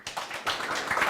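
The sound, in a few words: audience applause for panelists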